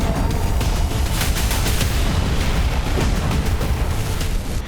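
Explosions from Iranian ballistic missiles intercepted over Israel, heard as a dense, continuous roar of booms and rumbling blasts with crackling bursts throughout, loud and sustained with no pauses.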